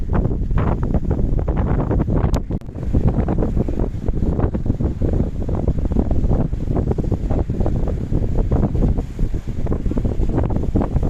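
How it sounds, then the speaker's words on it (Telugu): Strong wind buffets the microphone at a beach on Rushikonda hill in Visakhapatnam, a loud continuous rumble with gusting swells and a brief dip, no voices. "గాలి ఎక్కువగా ఉంది"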